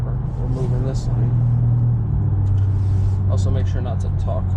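A BMW M4 Competition cruising on the road, its deep engine hum and tone shifts filling the cabin up close, with a voice speaking intermittently over it.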